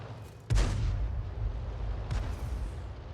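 A 17-pounder tank gun fires once in a video game, giving a single loud, booming report that rolls off into a sustained low rumble and a fainter second thump.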